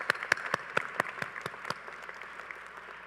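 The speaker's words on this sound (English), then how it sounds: "give yourselves a clap" A 2023 graduating class clapping for themselves at a commencement ceremony, scattered sharp individual claps close by over a softer wash of applause that gradually thins out.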